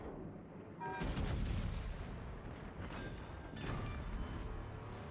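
Cannons fire in a naval combat video game, with a heavy booming shot followed by rolling, crackling blasts and a second volley a few seconds later, all loud and close with no voices over them.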